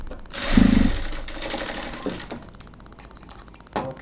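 A sewing machine stitching a kameez sleeve runs in a loud, close whirring burst, then slows into quieter rattling stitches, with a short final burst near the end and no talk.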